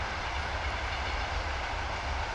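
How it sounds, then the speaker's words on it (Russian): A train rolls steadily past on a nearby railway, a loud continuous rumble and rattle of wagons with no break, heard outdoors near a highway. "сегодня будет просто шикарная ночь под шум железной дороги и трассы"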